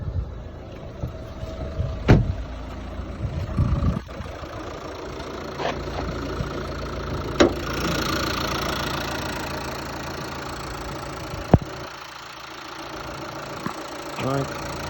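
A Dacia Duster engine idles steadily with a rough, faintly knocking hum and a whining noise from the turbo, heard close up over several occasional clicks and knocks from the engine bay.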